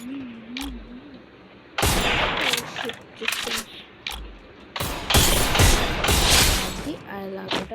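Rapid bursts of gunfire from a video game shootout, two dense volleys of shots crackling loudly between quieter gaps with faint engine-like hum, each burst lasting a couple of seconds.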